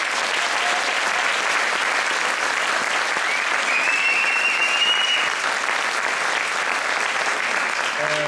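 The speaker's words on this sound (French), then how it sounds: "Donc, vous méritez une bonne main d'applaudissements." Enthusiastic applause for a school jazz band at a farewell concert, a sustained, dense wall of clapping from a packed audience, loud and even across the whole stretch with no pause.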